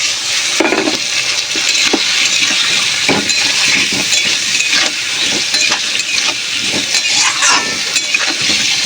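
A ginger and cumin masala paste frying in hot oil, a constant dense sizzle with scraping stirs and small clinks against the pan, close and steady, with no voices.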